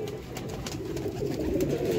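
Pigeons coo softly and continuously through a short stretch of dense, noisy background with no talking.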